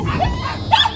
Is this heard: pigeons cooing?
no